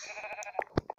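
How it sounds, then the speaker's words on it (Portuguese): A sheep in the video game Minecraft bleats with a short, nasal, wavering cry, clear and close, followed by a couple of brief clicky game sounds. "Tem mais uma ovelha aqui."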